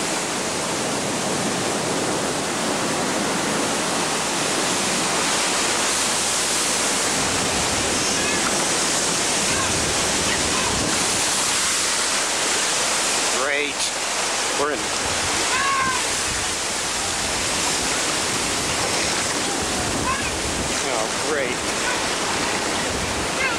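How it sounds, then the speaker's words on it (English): Typhoon storm surge water rushing ashore in a loud, continuous roaring wash, churning steadily throughout with occasional sharper splashes and gusts. "this mound of water rushes ashore. That's what you call storm surge."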